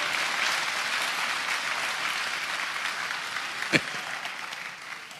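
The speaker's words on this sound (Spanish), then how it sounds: "Dele ese aplauso al Rey bendito" Steady applause from a crowd at a church service in Santiago, Chile, sustained and fairly loud throughout, with a brief thump partway through.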